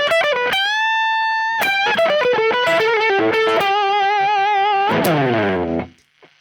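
Fast blues rock lick on distorted electric guitar, with rapid picked notes, bends and long sustained vibrato notes, closing on a sliding flourish that fades out, loud and played alone.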